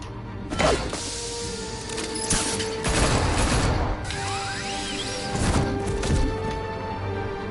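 Gunfire and crashes in the video game Batman: The Telltale Series, a loud burst of shots with impacts and mechanical clatter over a constant rumbling background, spread across several seconds without speech.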